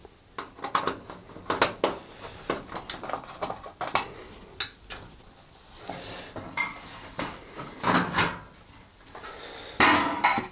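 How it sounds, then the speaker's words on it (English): Screws being undone on the back panel of a Rangemaster cooker: a run of metallic clinks, taps and scrapes as a screwdriver works the panel, close and uneven, with no talk. "I'm just going to remove this by undoing the 5 screws that hold it in place"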